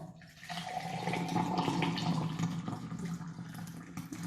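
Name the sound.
boiling water poured out to measure 300 ml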